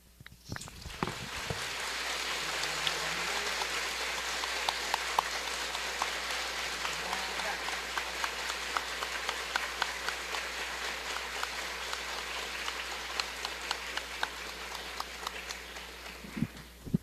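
Sustained audience applause after a speech at a religious gathering, an even wash of many hands clapping that holds steady and fairly soft for over fifteen seconds, with little else over it.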